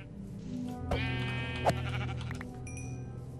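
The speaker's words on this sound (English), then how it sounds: "I mean, we could keep the sheep" Two wavering sheep bleats from Minecraft livestock, close and distinct, the second shorter and sharper, over a quiet droning game background with a faint chime near the end.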